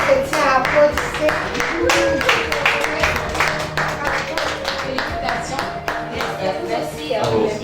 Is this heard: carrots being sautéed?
no